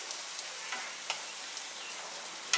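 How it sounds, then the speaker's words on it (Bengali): Masala frying in a pan with whisked sour yogurt mixed with a little salt, while it is cooked down for doi katla: a soft, steady sizzle with faint, scattered ticks of stirring, quiet and close. "টক দইটা দিয়ে মশলাটা আর একটু কষিয়ে নিচ্ছি।"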